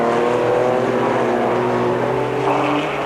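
Trans Am race cars, including a Beretta, lap Sears Point during a 1990 race, their engines a loud, steady, sustained roar that holds throughout with no voices.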